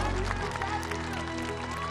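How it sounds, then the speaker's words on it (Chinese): Studio audience applause for a singer and his father on the stage of the televised singing contest I Am a Singer, a dense, steady wash of clapping that fills the whole moment. "掌声送给这父子。"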